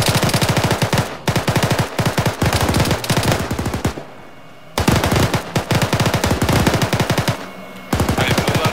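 Sustained machine-gun fire rattles loudly and close in a military shooter game, long rapid bursts broken by brief pauses.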